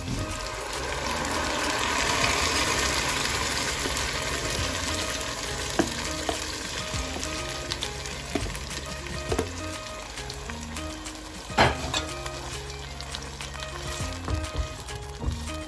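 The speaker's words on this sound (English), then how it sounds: "add everything that you put in the blender earlier on. So you mix it in." Blended jollof rice base sizzles and fries loudly in a pot while a utensil stirs and scrapes through it, with occasional clinks, no voices.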